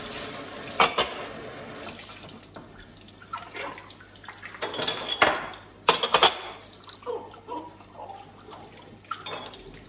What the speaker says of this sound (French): je me retrouve à faire de la vaisselle à la main